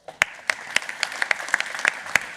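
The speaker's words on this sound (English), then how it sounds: "Some great questions from the audience. Give them a round of applause." Audience applause closes a fireside chat at the Dutch Game Day conference: a moderate crowd claps in a brisk, uneven patter with a few sharper individual claps standing out.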